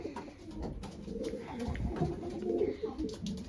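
Racing pigeons in an outdoor loft coo softly and close by, with low, throaty, rolling calls that repeat and overlap amid light rustling.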